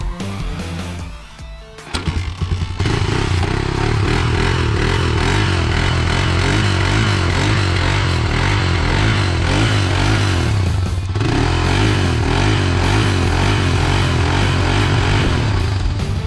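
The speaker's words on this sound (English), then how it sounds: "this one is the big bore three-wheeler of the day" A vintage big-bore three-wheeler ATV engine runs loud and close, with a rough, throbbing idle that rises after a brief dip and holds steady with slight revs and mechanical clatter. No talk.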